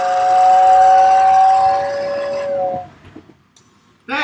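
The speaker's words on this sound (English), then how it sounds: "New York Central's giving us a hard time with its whistle" A New York Central model train's steam whistle blows a long, loud sustained chord that fades out, followed by quiet rumbling and a brief burst at the end.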